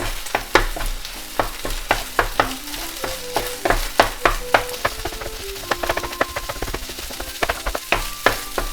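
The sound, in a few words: rice and egg being stir-fried, breaking up clumps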